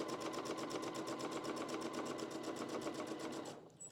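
A Husqvarna Viking Onyx 30 sewing machine runs a fast, even stitching rhythm while free motion quilting on fabric, close and steady before stopping abruptly near the end.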